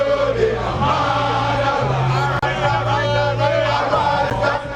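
An agitated crowd of protesters near barricades outside the Jubilee House in Ghana keeps up a dense, steady roar of many voices, with low music-like drones and shouting blended into a constant loud wash.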